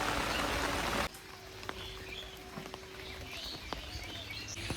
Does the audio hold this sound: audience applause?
no